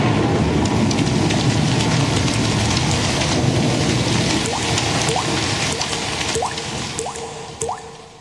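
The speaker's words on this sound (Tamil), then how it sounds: "இப்போது துளி துளியாய் மழை கொட்ட போகிறது" Steady rain falls with a dense hiss and scattered drips, while faint rumbles of thunder roll in the background and the downpour eases slightly toward the end.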